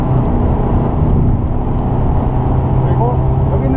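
A Kia Sportage R diesel with a manual gearbox drives on the Inje Speedium race circuit, its engine drone and road roar loud and continuous from inside the cabin as the throttle is gradually applied, with an instructor talking over it.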